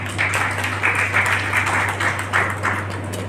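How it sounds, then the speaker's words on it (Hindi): Audience at a business association meeting claps loudly, a sustained burst of applause with steady rhythmic clapping over a low constant hum, no speech. "लाकड़ी फाजलपुर के निर्यातक अपने लिए जोर से ताली बजा लें"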